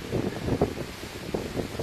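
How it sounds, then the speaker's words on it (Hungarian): Gusting wind in the Visegrád Mountains of Hungary rushes and buffets steadily, a broad low roar that swells and eases without pause, with no one speaking. "Durván feltámadt a szél."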